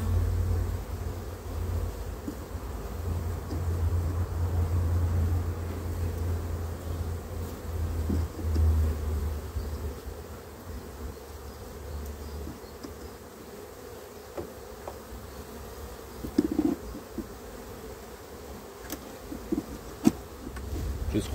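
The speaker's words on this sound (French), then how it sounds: "Je secouerai les abeilles après." Honeybees buzz around an open beehive as frames are lifted and moved during an inspection, a steady low drone lasting throughout with occasional soft handling knocks and clicks.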